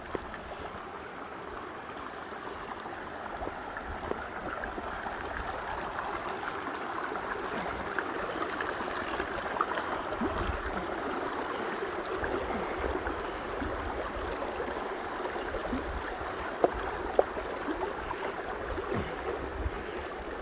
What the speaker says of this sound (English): First Sierra River crossing, although this one's not going to be a big deal.